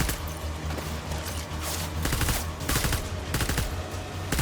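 Rapid gunfire from a gun in the video game Death Stranding, with dense bursts of sharp shots over a low, steady game rumble and no talking.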